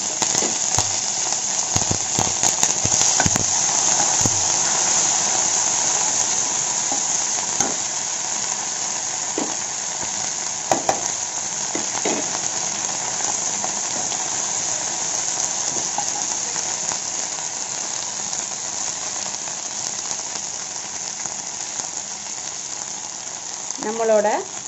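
Steady loud sizzling of spices tempering in hot oil for a chicken curry runs throughout, with occasional pops and crackles and faint utensil clinks.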